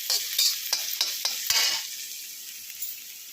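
Finely chopped garlic fries in a pan while a utensil stirs it, making a close, steady sizzle broken by several sharp scraping strokes in the first half that then settle into a softer continuous hiss.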